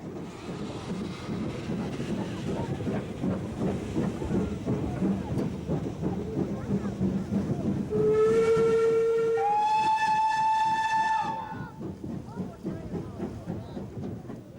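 Ex-Southern Region double-chimneyed steam locomotive with a large tender, on loan to the East Lancashire Railway, chuffs along loudly, then sounds a long, steady multi-tone whistle that holds for several seconds before the running noise continues.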